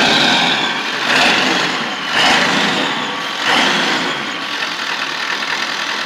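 A Ford Power Stroke diesel truck idling at a Texas fishing spot, a steady close rumble with a faint high turbo whine and a few gentle swells in loudness.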